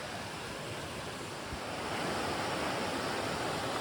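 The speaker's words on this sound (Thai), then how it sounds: "วันนี้เราก็มาถึงแล้วนะครับมาถึงห้วยแล้วอ่ะ" Steady broadband rush of a flowing stream at a creek in Mae Hong Son, Thailand, continuous and fairly close, with some wind on the microphone and no talking.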